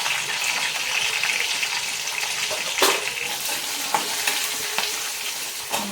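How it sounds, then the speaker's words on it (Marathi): Garlic sautéing in a pan with turmeric and asafoetida, a steady close sizzle and frying hiss with a few stirring scrapes and clicks, no voices. "थोडंसं लसूण लाल होईपर्यंत परतायचा, त्याच्यात थोडीशी हळद टाकू आणि थोडंसं हिंग टाकायचं"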